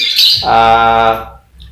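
A female lovebird gives a loud, close, harsh squawk that rises and then trails off, heard alone.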